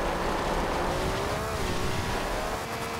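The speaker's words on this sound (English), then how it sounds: "Now this is of course the original mid-engine supercar." A 1967 Lamborghini Miura P400, a mid-engine supercar with about 500 horsepower, drives in Forza Horizon 2. Its engine drones steadily and loudly throughout, with a pitch that rises and falls slightly, and no voices.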